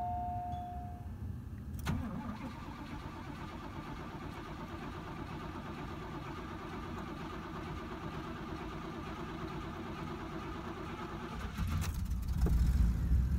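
A 1985 Oldsmobile Delta 88 V8 cranks and catches at the first start of the year, then settles into a steady low idle for several seconds before the revs swell toward the end, heard close with no speech.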